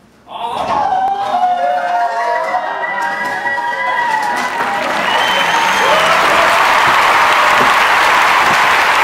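A school crowd claps and cheers loudly at a school news broadcast, a sustained wash of applause with whoops and shouts that swells slightly toward the end.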